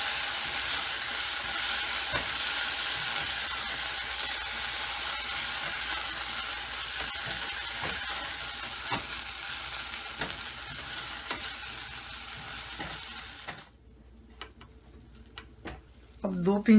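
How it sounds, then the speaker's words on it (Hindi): Ingredients for achwani, a postpartum drink, roasting gently in a pan over a low flame, giving a steady soft sizzle with occasional stirring scrapes that stops near the end, followed by a brief clatter. "बिल्कुल हल्की आंच पे भूनेंगे इसको।"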